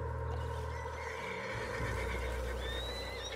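A horse in the video game Red Dead Redemption 2 whinnies loudly and close, a long quavering neigh over a low rumbling background, with no voices.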